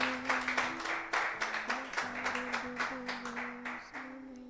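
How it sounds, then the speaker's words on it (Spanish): Church congregation clapping for the Lord in a lively rhythmic burst, hands beating in a steady pulse over a sustained musical tone, moderately close. "¿Cuánto le da un aplauso al Señor,"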